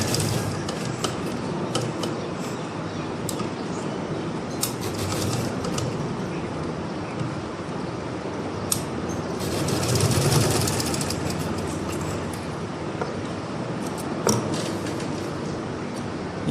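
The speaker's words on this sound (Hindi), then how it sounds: "अभी मैं आपको इसकी सिलाई चेक करके बताता हूँ" A sewing machine under test after a repair for faulty top-thread stitching runs continuously, whirring and rattling with a fast mechanical chatter, briefly louder near the middle.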